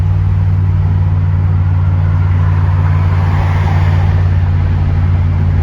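A car cruises at high speed on a busy highway near Los Angeles, its steady engine drone and road rumble loud and constant throughout, with no voices heard.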